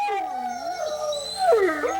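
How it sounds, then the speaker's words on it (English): A wolf howls in Yellowstone National Park, long sliding tonal howls rising and falling, with a second, higher howl overlapping near the end. The calls are clear and fairly close, with no talk. "The howl of the wolf has been absent in this, the world's first national park, for nearly 70 years."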